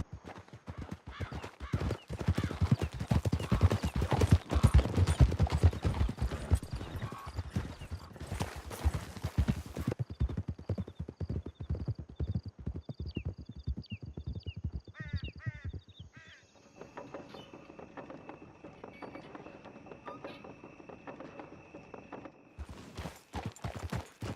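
Several horses galloping in Red Dead Redemption 2, a dense rapid clatter of hooves for about sixteen seconds that then eases into slower hoofbeats, with birds calling in the background.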